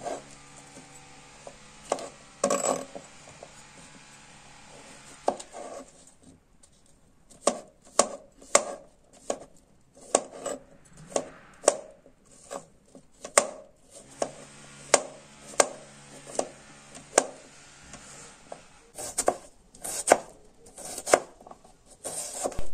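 A knife chopping washed saffron milk cap mushrooms on a board, with a steady series of crisp, close taps that grow regular and quicker after a few quieter scattered cuts.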